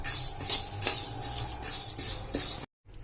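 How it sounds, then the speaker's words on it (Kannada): Chana dal is dry-roasted on a low flame and stirred in a thick-bottomed pan, giving a close scraping and rattling of spoon on metal with light clinks, ending in a sudden cut to silence. "ಮೊದಲಿಗೆ ಕಡ್ಲಿಬೇಳೆ ಹಾಕೋಣ ಇದೇನದ ಸಣ್ಣ ಉರಿಯೊಳಗೆ ಕೆಂಪಗೆ ಹುರ್ಕೊಂಡು ನಿಧಾನಾಗಿ ಹುರ್ಕೊಂಡ್ರೆ"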